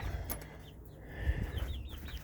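Hens softly clucking inside an urban backyard chicken coop, faint intermittent calls over low rumbling background noise, no talk.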